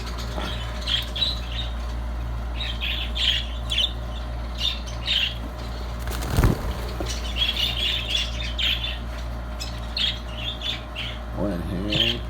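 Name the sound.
budgerigar chicks squawking in nest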